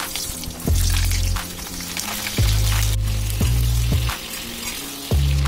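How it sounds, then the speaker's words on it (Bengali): Pieces of pointed gourd fry in hot oil with a loud, steady sizzle, broken by several thumping knocks and scrapes as they are moved around the pan. "এবার আমি পটলগুলো ভেজে নেব।"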